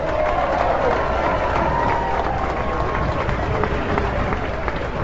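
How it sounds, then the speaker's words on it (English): An outdoor political picnic crowd gives a big round of applause, a dense, continuous wash of clapping with murmuring voices and cheers mixed in, steady and loud throughout. "a big round of applause"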